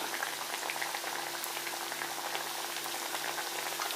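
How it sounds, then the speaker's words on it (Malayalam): A chickpea and potato snack frying in hot oil on a low flame, an even, dense bubbling crackle, close and continuous with no talk. "പതുക്കെ നമ്മൾ ലോ ഫ്ലെയിമിൽ വെച്ചിട്ട് ഇത് ഒന്ന് വറുത്തെടുക്കണം."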